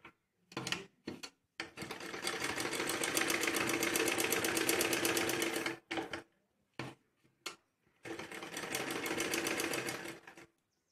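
An electric sewing machine stitches the lining of a baby frock: two long steady whirring runs of rapid needle clatter, framed by short stop-start bursts and clicks as the fabric is adjusted.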